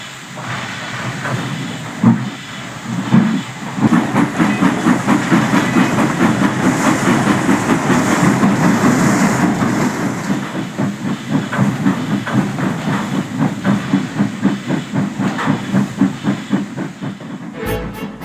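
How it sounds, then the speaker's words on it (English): A geared steam locomotive train rolls along with steady clickety-clack of wheels over rail joints, plus hiss and rumble, fairly loud and close throughout. "with a loud blast of Lewis's whistle, they departed"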